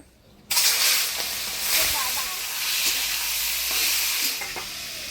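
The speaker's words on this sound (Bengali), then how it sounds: "এবার মাছগুলা ভাইজে নেব।" Cleaned prawns hit hot oil in a frying pan with a sudden loud sizzle, then a steady, close hiss continues with occasional crackles and stirring scrapes.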